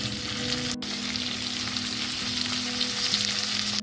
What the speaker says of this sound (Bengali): এবার আমি কেটে রাখা পেঁয়াজ আর লঙ্কাগুলো দিয়ে দেব